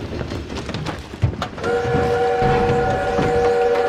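Train in the Call of Duty WW2 video game, a loud rumbling run with a steady whistle tone that enters partway through and holds to the end over continuous engine and track noise.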